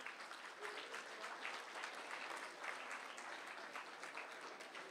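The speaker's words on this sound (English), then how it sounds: "A big applause to all these nations." Steady applause from a large crowd, continuous and even throughout, with no voices standing out.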